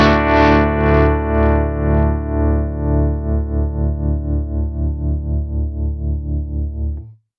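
Distorted guitar chord through a Morgan Amps Suite tremolo synced to a faster tempo, pulsing slowly at first and then in quicker, rapid even throbs as it sustains for about seven seconds.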